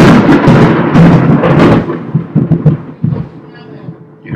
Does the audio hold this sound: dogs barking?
no